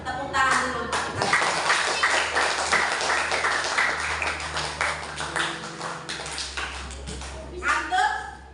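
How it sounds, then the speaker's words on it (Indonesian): Schoolchildren clap together in a classroom, a burst of dense hand claps that swells and fades over several seconds while a teacher and children talk around it. "tepuk tangan dulu untuk kita"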